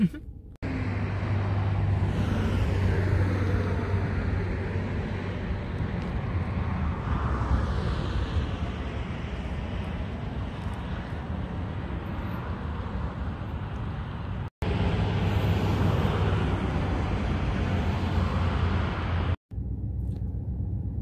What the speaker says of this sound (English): The planes just go right over you.